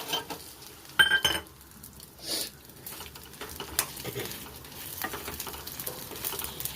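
Cumin seeds sizzle and crackle in hot oil in a pan, with a few stirring clinks against metal and a steady soft frying hiss throughout, close up.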